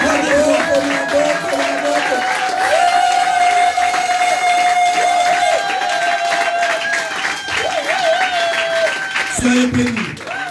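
A church congregation cheers and applauds loudly and steadily, with sustained voices, shouts and clapping filling the room close up and continuing throughout, ending with a brief louder cry.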